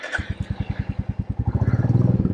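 A modern Royal Enfield Classic 350 motorcycle engine idles nearby with a steady, deep thumping beat that quickens slightly and grows louder toward the end.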